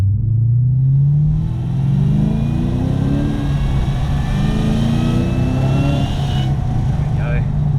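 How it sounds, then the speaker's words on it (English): Supercharged car accelerating in traffic, with a steady rising whine climbing over a loud low engine rumble, continuous and close throughout. "So let's go up here, get some more whiny noises"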